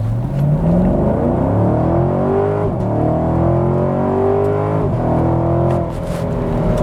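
A Chevrolet Camaro convertible with a V8 launches hard in track mode, its loud engine roar climbing through the revs with quick dips at each upshift as it accelerates.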